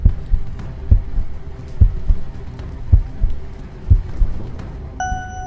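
Heartbeat sound effect in a horror story, deep thumping double beats repeating at a slow steady rhythm, loud and close, with a faint ringing tone entering near the end.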